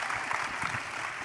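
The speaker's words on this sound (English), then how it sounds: "Yes, you can clap for that." Audience applause at a celebration event honoring the newly confirmed U.S. Mint Director, a moderate, even patter of many hands clapping at medium distance.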